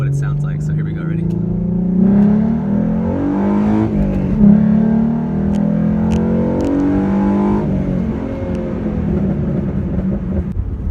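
A car engine fitted with a BBK 73mm throttle body revs up at full throttle, its rising and falling drone close and loud across several pulls, with a voice talking over it at times.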